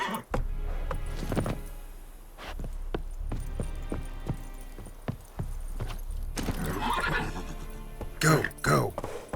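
Roach the horse in The Witcher 3 neighs and whinnies amid steady clip-clop hoof beats while being ridden, with a voice calling to the horse now and then over the trotting.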